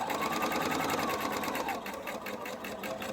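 A sewing machine stitching the seams of mini fabric flags, a steady close rapid mechanical whir and needle chatter running continuously throughout.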